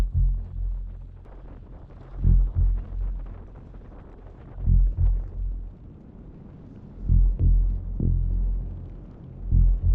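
Gusting wind buffets the microphone during a night-time bicycle ride on an Audax brevet toward a dike and lighthouse, low rumbling surges rising and falling in several strong bursts, with no talking.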